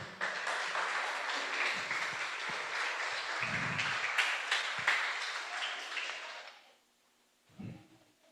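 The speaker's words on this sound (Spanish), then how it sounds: "Denle un aplauso al Señor." A church congregation claps together in dense, steady applause for about six seconds, then it breaks off abruptly into near silence with a brief low knock at the end.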